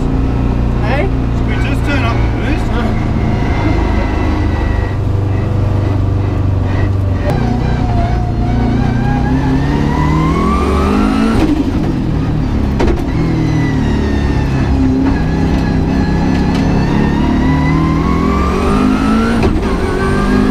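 A Subaru Impreza GC8 being raced revs hard and loud, its engine note climbing and falling repeatedly up close, while a person talks over the noise.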